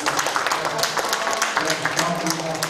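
Dense, steady applause from an audience honoring the mayor at a town-hall citizens' meeting in Janghowon-eup, Icheon, with many overlapping claps sustained at a fairly loud level throughout.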